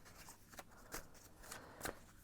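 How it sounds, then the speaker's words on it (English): Tarot cards are shuffled in quick, quiet riffling bursts, several soft papery snaps close to the listener at low volume. "I'm gonna shuffle and see what the cards have to say"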